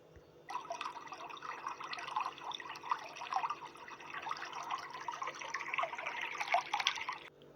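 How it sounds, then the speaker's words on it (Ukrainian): Water pours steadily into a basin, a continuous splashing gush that starts abruptly and runs for several seconds, close and moderately loud. "це лється вода"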